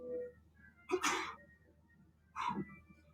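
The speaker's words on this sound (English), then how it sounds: "That was a real sneeze." Two sneezes ring out close by, a sharp burst followed by a second one about a second and a half later, in an otherwise quiet room.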